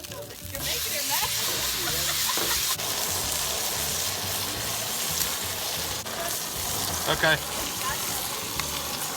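A leg of lamb sears on a very hot grill, giving a steady, close broadband sizzle and hiss that runs the whole time, with a brief spoken word near the start.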